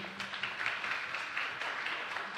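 Audience applause at an awards gala for a casino and business magazine, a steady even wash of clapping heard fairly near, with a faint voice underneath.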